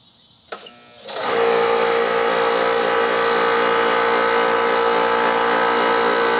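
A repaired air compressor that had seized and would only hum starts after a couple of clicks and then runs loud and steady, its motor and pump chugging in an even rapid rhythm close by.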